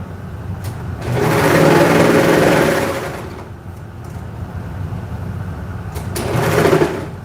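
A sewing machine stitches in bursts, whirring loud and close for about two seconds, easing to a quieter hum, then speeding up again near the end, with no voices.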